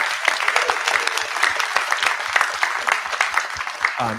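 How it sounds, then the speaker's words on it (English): Brisk applause from a modest crowd at a startup pitch competition, many hands clapping steadily and close by for the whole stretch, with no voices over it. "can we get a big round of applause for everybody who's pitched tonight?"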